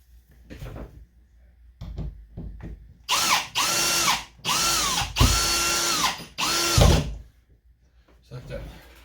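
A power drill drives a screw into a board while mounting a new shower water line: several whining bursts that rise and hold, close and loud, separated by short gaps with handling clatter between them.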